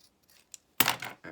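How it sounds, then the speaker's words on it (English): Scissors trim paper for a handmade journal, a couple of quick close snips in an otherwise quiet room. "I'm going to trim this just a little bit"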